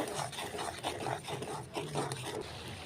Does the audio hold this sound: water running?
no